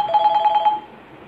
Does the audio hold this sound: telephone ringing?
yes